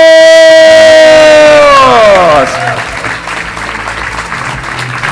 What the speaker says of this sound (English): Ladies and gentlemen, Karren, a round of applause!